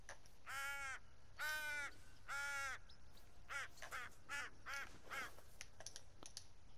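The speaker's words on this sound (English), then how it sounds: "I got a hen to gobble, or a hen to cluck." A wild turkey hen calls in theHunter: Call of the Wild on a New Zealand hunting map. She gives three long, harsh, evenly spaced calls, then a faster run of shorter ones, fairly loud, with no talking.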